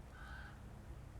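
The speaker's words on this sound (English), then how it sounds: "Probably hear the crows there" Crows caw faintly from trees across a road, a single brief call in quiet outdoor air.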